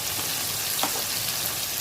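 Spices dropped into hot oil for an Indian tadka for a desi pasta dish crackle and sizzle softly and steadily, with a brief louder burst of spitting near the middle.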